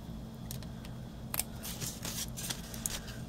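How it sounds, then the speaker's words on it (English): Scissors snip off excess ribbon on a snowman candy bar wrapper holder craft, a series of short crisp cuts close by over a steady low hum, with no talking. "you're just going to trim it off, and then I'm going to go in and just nip off that excess"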